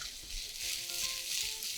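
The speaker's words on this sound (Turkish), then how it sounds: "Hemen sıcak patatesler içeriye. Patateslerin şimdi dışları kavrulacak." Hot potatoes sizzle steadily in tuna oil in a pan, a soft continuous frying hiss with faint crackles and a few light stirring scrapes.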